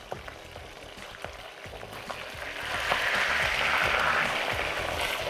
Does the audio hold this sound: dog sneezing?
no